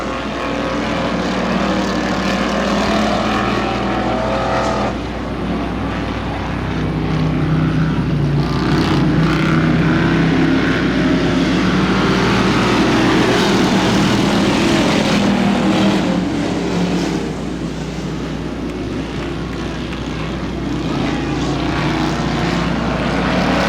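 Street stock race cars roar steadily at Butler Motor Speedway, a loud continuous engine drone with rising and falling revs as the pack accelerates off the green flag, no voices present.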